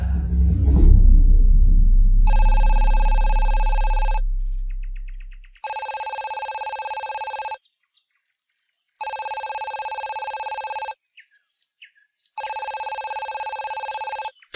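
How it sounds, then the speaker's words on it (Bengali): A mobile phone ringtone rings loudly in three long, bright electronic bursts separated by silent gaps, after a deep rumbling swell that fades out at the start. "একটা ফোন বাজছে, তিথির ফোন।"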